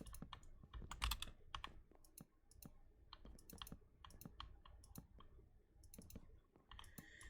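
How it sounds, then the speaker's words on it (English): Rapid, irregular computer keyboard clicks and key taps during Minecraft play, close by, in uneven bursts with brief pauses, no voices. "Sorry if you can hear any like clicking or anything, that's my keyboard"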